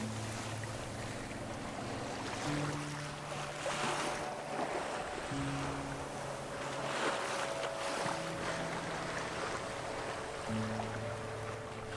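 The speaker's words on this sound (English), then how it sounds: "what you hear is the foghorn" Foghorn at the buoy marking Allen Rocks, sounding repeated long steady low blasts at intervals from a distance, heard over wind noise and water as a sailboat moves along.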